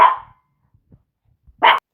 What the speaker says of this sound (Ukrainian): вибачте кіт з песиком не поділили іграшку